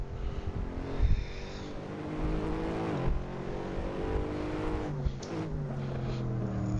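Audi RS6-R engine held at full throttle around the Nordschleife, a loud sustained roar with rising and falling pitch as it pulls through gears, close and continuous throughout.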